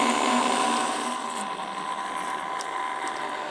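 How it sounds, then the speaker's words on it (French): A kitchen blender runs with a loud, steady motor whine up close, easing slightly in level after the first second and continuing alone. "sur les blenders, il ne faut jamais forcer"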